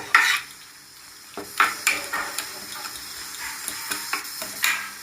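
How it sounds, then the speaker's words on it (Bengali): Poppy seed paste fried with spices in a pan, stirred with a utensil: a soft frying sizzle broken by several sharp scrapes and clinks of spoon against pan at irregular intervals. "পোস্তটা মাখানো হয়ে গেছে মশলার সাথে ভালোভাবে ভাজা হয়ে গেছে"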